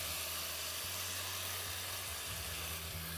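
Onions browning in a pan for Bengali aloo fulkopir dalna, a loud, continuous close-up sizzle and hiss over a low steady hum, with no voices.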